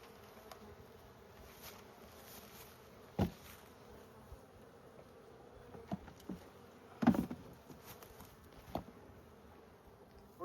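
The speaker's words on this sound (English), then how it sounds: "There's a lot of bees in there." Honey bees buzz steadily around a hive, a soft continuous hum with individual insects droning louder as they pass close, plus a few faint knocks and taps.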